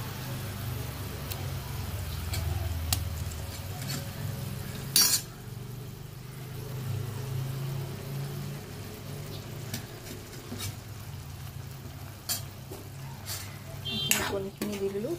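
Chopped boiled eggs are stirred into onions boiling in water in a pan, giving a soft steady bubbling hiss with occasional sharp utensil scrapes and clinks against the pan.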